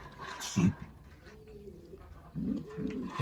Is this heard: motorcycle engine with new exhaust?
no